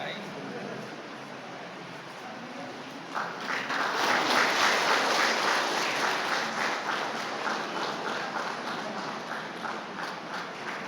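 Loud applause from a crowd at a trade union federation event in Pasighat, Arunachal Pradesh: clapping swells suddenly after a few seconds of murmur and holds strong, with voices beneath.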